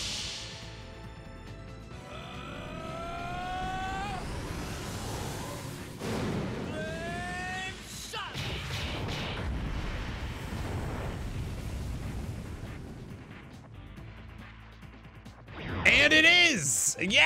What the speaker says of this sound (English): we'll use a flame shot. This might actually be enough damage to finish the fight.